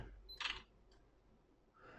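A sharp Canon PowerShot SX100 IS shutter click with a brief high whine as the flash fires, then a fainter mechanical click, in quiet surroundings.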